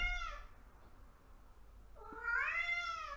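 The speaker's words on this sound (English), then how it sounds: "I'm going to pause the video and go and deal with this cat." A cat gives two drawn-out, wavering meows, a short one at the start and a louder, longer one after a pause, close by in a quiet room.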